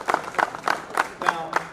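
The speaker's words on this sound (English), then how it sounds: "I want everyone to give a big applause for all the guys that are participating." An audience claps for the participants at a live event, producing six short bursts of applause spaced about a quarter-second apart, moderately loud and close.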